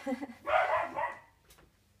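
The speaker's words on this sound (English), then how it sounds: "That would be my dogs chasing and playing with one another." A couple of dogs chasing and playing each other give a few quick, moderately loud barks and yips in a brief cluster, with a fainter sound afterward.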